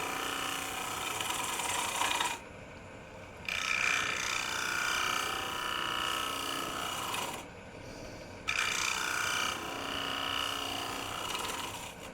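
A woodturning tool cuts a thin-walled wooden bowl on a lathe, a raspy, chattering scrape in two long passes separated by brief pauses, close and fairly loud with no talking.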